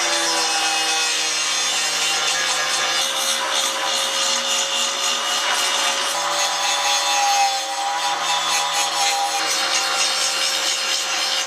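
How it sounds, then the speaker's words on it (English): Abrasive grinding wheel working the cut-off parts of a Honda CB350 motorcycle frame, a loud steady rasping whine held for the full stretch with slight wavering and no pauses. "So we're just going to grind off some of the parts that we cut off just to make it nice and clean."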